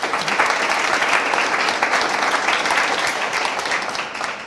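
Conference audience at a racial equity event breaking into spontaneous applause as a panel speaker is introduced, loud and sustained clapping that tapers slightly at the end.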